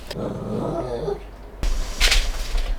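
Dogs wanting to go out give a low, rumbling growl over the first part, then a sharper burst and scuffing noises follow nearby.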